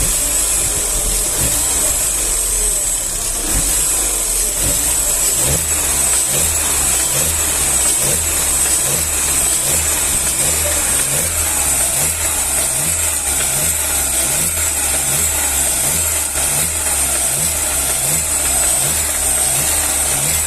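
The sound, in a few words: Opel Astra 2009 engine revving with a faint noise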